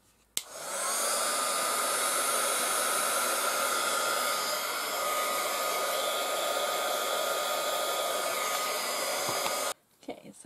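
A hair dryer blowing on a journal page to dry paint before gesso goes on, a loud, steady whirring blast that runs for about nine seconds before switching off.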